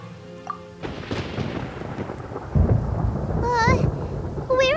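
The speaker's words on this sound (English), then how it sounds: "Where is the storm headed?" Rolling thunder from a storm in Genshin Impact's Sumeru region rumbles loudly and continuously, swelling into heavier cracks partway through, with brief bright chirping game tones near the end.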